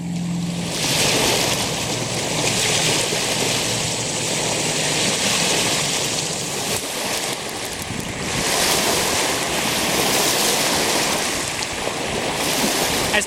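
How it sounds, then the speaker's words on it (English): Wakes from passing boats slap and wash against the shore of a calm, windless lake, making a continuous broad churning of water that swells and eases in slow surges. "There's so many waves today out here."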